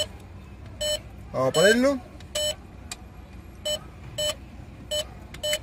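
ATM keypad beeps sound as data is entered, with short, evenly spaced tones that repeat at a steady pace. A person speaks briefly between the early beeps.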